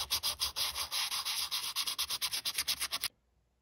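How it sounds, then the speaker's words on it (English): Fine-grade sandpaper rubbing over the knobs of a Heathkit HW-101 ham radio, a quick run of rhythmic scratchy strokes, close and fairly loud, that stop abruptly near the end. "For this job, a really fine grade of sandpaper can do wonders."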